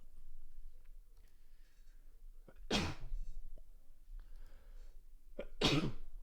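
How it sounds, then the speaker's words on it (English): Two sharp sneezes burst out a few seconds apart, loud and close, with quiet rustling in between. "I'm gonna sneeze here in a second."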